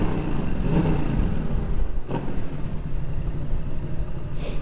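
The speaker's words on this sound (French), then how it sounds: "C'est que la sonorité de l'échappement. Là, ici, elle résonne, mais bien comme il faut." Yamaha Tracer 7 motorcycle exhaust resonates in a continuous, close, loud rumble during an onboard ride, with a couple of brief gusts breaking through and no one speaking.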